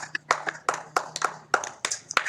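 Children clapping for themselves during a kitchen vocabulary lesson, a handful of loose, uneven claps close by, separate sharp slaps spread across a couple of seconds over a faint hum.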